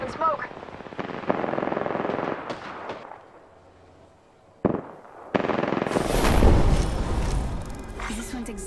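Apex Legends gunfire in a firefight, with rapid bursts of shots and sharp cracks, a brief near-silent gap, then a loud roaring burst of fire and blasts toward the end.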